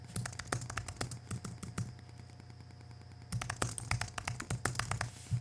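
Rapid typing on a computer keyboard while filling in an online property listing form, a steady run of close, crisp key clicks that pauses briefly in the middle before resuming at a brisk pace.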